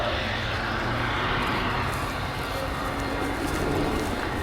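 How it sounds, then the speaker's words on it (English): An Italian Air Force C-27J Spartan twin-turboprop transport flies at the RIAT 2024 airshow, its engines giving a steady, broad roar that holds evenly throughout with no talk. "the C-27J Spartan was cleared for the highest maneuver"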